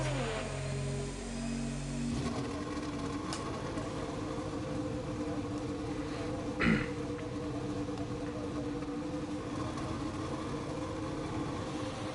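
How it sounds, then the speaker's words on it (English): A race car engine in the Race as One racing game at Abu Dhabi drones steadily and close, with a pitch shift early on and one brief sharp knock midway. "Engine fired, we're set."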